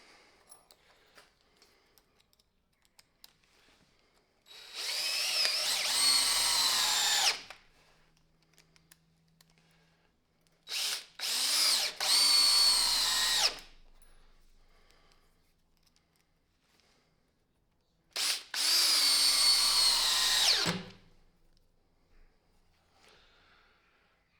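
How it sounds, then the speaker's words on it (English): A cordless drill driver drives screws in three separate whirring bursts, each lasting a few seconds, close and loud, with quiet gaps between them. "Right, and with our drill driver,"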